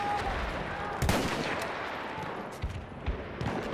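Machine gun fire in the World War I shooter Battlefield 1, a few loud, sharp bursts and cracks over a noisy battlefield din.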